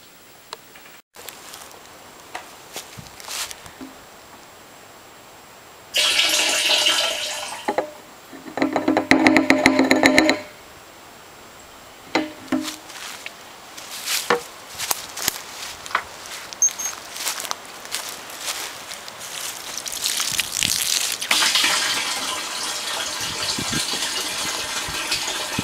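Water from a hose runs into a drum during water treatment, heard as sporadic gushing and splashing that comes in loud bursts with quieter patter and knocks between, ending in a steady rush.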